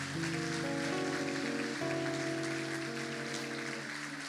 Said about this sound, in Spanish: Y les damos un grande aplauso al Señor por ellos.